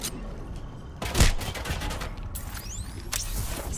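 Gunfire in the video game Apex Legends, with rapid bursts of automatic fire and a sharp hit near the start, mixed with whooshes and game effects, loud and dense over a few seconds.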